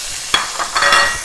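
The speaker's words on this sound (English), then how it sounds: "Nice sizzle there." Chunks of food sizzle and crackle in hot oil in the same pan used for beef mince, with a few stirring bursts over a steady frying hiss, close and clear.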